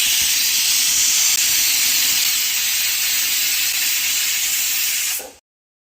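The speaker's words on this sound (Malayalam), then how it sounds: "ഒറ്റ വിസിൽ വന്ന് സ്റ്റവ് ഓഫ് ചെയ്തിട്ടുണ്ട്." A pressure cooker hisses out a long, loud, continuous jet of steam while drumstick sambar cooks, holding steady for about five seconds before cutting off abruptly into silence.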